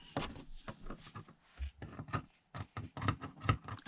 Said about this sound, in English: Cutting fabric with paper scissors is a bit of a nightmare.